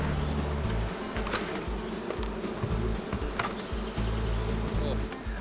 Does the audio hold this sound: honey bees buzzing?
yes